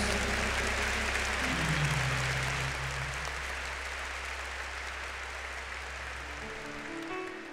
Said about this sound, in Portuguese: Agora aplauda para valer a palavra de Deus.